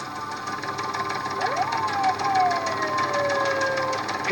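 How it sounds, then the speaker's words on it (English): A police siren wails up and down, rising and falling tones at moderate distance over steady background noise. "Hit the siren, Doug."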